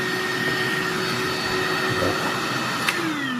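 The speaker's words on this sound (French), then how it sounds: "ça fait pas tellement de bruit, franchement, comparé à un aspirateur classique" Kärcher VC 4 cordless stick vacuum cleaner running at close range with a steady, moderate whine and airy rush, holding an even level for a few seconds with a slight pitch shift near the end and no talk.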